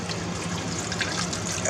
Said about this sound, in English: Now we're going to add 1 cup of water.